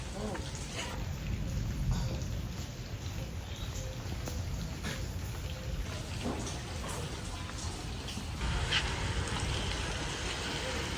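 Steady rain falls outdoors, producing a dense, even hiss with some brighter patter throughout, and a brief voice comes in partway.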